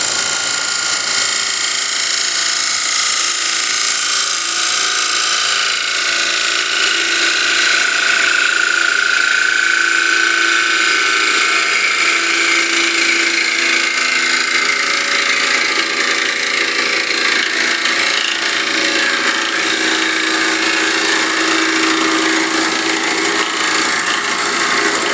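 A sharpened gouge takes its final smoothing passes across a wooden workpiece, giving a steady, close, continuous rasping and scraping that runs unbroken throughout with no voices.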